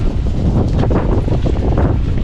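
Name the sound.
wind blowing at a ruined medieval castle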